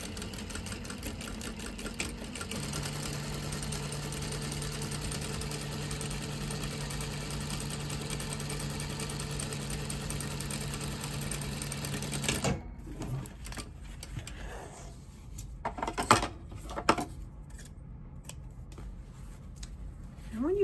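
Servo-motor sewing machine runs fast and steady for about twelve seconds, stitching a wide seam with a droning motor hum, then stops, leaving faint handling clicks and rustles.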